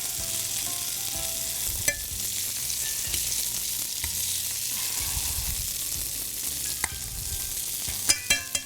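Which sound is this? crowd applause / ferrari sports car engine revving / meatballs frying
meatballs frying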